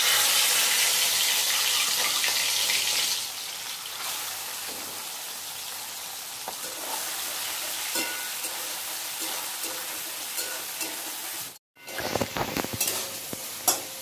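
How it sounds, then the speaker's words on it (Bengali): Shrimp rubbed with salt and turmeric frying in a pan for a Bengali malai curry, a steady loud sizzle with occasional stirring clinks that drops quieter after a few seconds, then a brief pause and some scraping. "চিংড়ি মাছগুলো একটু হালকা করে ভেজে নিলাম।"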